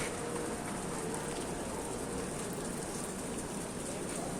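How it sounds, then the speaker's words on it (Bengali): Steady rain falls outdoors on the day after Hajj, a dense, even hiss that stays constant and fairly faint throughout, with no voices. "এখনও বৃষ্টি পড়তেছে এখনো বৃষ্টি শেষ হয় নাই"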